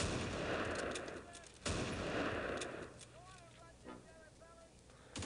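Gunfire in the Close Combat video game: loud, sharp bursts of shots hit at the start and again after a second and a half, followed by quieter battle noise, with a voice faintly present.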